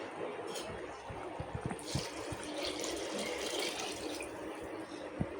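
Water poured for basmati rice in a home chicken biryani, a soft steady gush and trickle of liquid filling a pot, fairly quiet with faint clinks.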